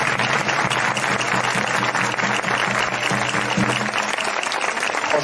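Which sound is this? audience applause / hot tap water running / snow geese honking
audience applause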